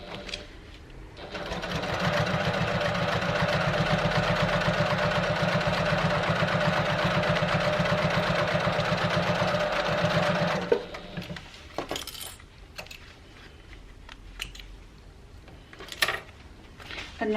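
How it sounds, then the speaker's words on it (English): A sewing machine runs a steady, continuous line of stitching through vinyl for a tote bag, loud and close, then stops and gives way to a few light handling clicks and taps. "because I'm using vinyl, I'm going to actually run a second row of stitching just inside this row that I've just done"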